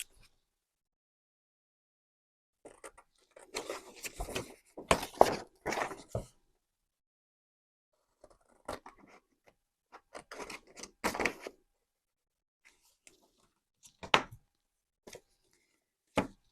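Scissors cutting a piece out of fabric for an accordion pocket, a few clusters of close, crisp snips separated by quiet pauses, with isolated clicks later.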